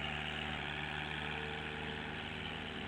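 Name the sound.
petrol tractor engine idling, Farming Simulator 19 video game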